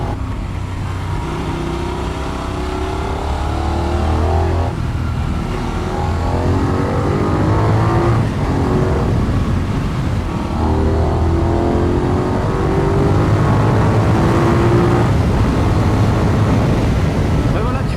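A Benelli 752S motorcycle engine accelerating while being ridden, with a loud continuous engine note that rises in pitch through several runs, under steady wind noise.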